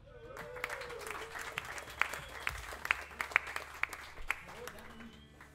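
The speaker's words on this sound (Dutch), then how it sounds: "dat verdient wel een applaus." A small club audience at a Vort'n Vis, Ieper punk concert applauds in a loose patter of individual claps over a low hum, with a voice talking alongside.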